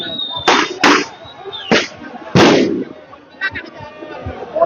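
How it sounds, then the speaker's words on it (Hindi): Loud sharp firecracker bangs echo during a celebration of an Indian victory, several irregular blasts with reverberant tails in the first half, then smaller crackling pops further off. "ये गूंज, ये पटाखों की गूंज,"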